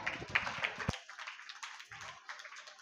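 Audience clapping at a 78th Independence Day celebration at St. Ann's C.E.M. School in Phirangipuram, Guntur: a steady, fairly faint wash of applause lasts the whole moment, with a few sharper claps near the start.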